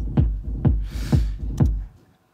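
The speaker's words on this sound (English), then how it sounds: "that's quite a kick" A synthesized kick drum from a VST plugin, with a slight click on its attack, hits four times in an even, moderately fast rhythm. The booming low thumps are loud and isolated, with a brief swell of noise between the second and third hits.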